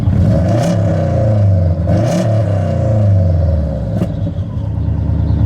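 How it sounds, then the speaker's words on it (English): A cheap auction Subaru WRX rally car engine revs up and down repeatedly, loud and close, with sharp popping backfire bursts between the revs. "Backfire."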